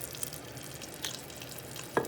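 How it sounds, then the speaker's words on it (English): Butter sizzles in a hot copper French pan alongside a little olive oil, a steady soft hiss with a few faint clicks and pops, close and quiet, with no talk. "once it feels hot inside of there, I'm going to go ahead and add a tablespoon of butter"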